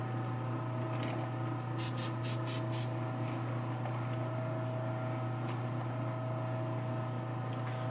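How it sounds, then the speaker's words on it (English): Airbrush spraying mahogany paint onto a custom figure piece, a steady hiss over a constant compressor hum, with a few quick bursts of sharper spray pulses early on and no talking. "I'm just spraying a little mahogany on here"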